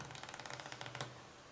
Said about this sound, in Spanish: el clic de la carta con la esquina corta es mayor al que realizan las cartas normales